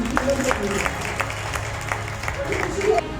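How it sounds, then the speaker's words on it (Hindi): A church congregation at a Pentecost service breaks into applause, a moderate, blurred patter of clapping beneath a voice speaking. "जोरदार तालियां।"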